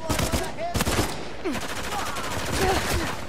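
Gunfire in Uncharted 4 multiplayer: rapid automatic bursts and scattered shots crackle continuously at close range, with brief voices in between.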